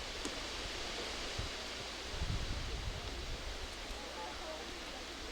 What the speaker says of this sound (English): This wind is gusting.